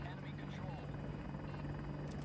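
A helicopter in the video game Battlefield 2042 thrums steadily with a strong low rotor drone, the engine noise continuous and moderately loud while game voices and other sounds carry over it.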